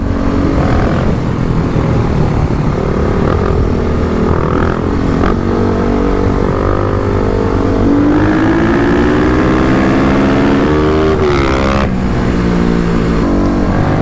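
A Kawasaki KLX dirt bike engine drones steadily, then its pitch climbs as it accelerates, a continuous buzzing intake roar close by with no voices.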